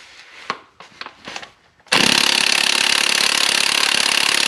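A cordless impact gun starts after a few light metallic clunks and then hammers continuously and loudly on the crankshaft pulley bolt of a Honda V6, a rapid buzzing rattle close by with no talking.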